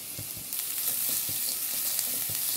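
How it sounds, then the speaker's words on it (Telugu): Carrots drop into a pan of golden-brown frying onions and sizzle in a continuous, close hiss, broken by soft stirring knocks. "సో ఇప్పుడు నేను క్యారెట్ వేస్తున్నాను"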